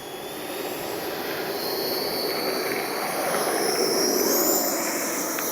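An E-flite Viper 90mm RC jet's electric ducted fan screams steadily during takeoff, a loud, constant high-pitched whine with a slight rise in pitch as it goes.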